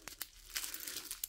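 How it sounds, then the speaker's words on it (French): Bubble wrap being pulled off a cross stitch kit box during an unboxing, giving a few quick, soft crinkling bursts close by with no talking. "Donc on a un papier bulle"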